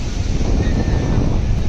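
Sea waves wash ashore at Somnath beach on the Gujarat coast, a steady broadband surf rush with wind buffeting the microphone throughout.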